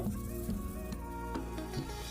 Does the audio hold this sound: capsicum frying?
yes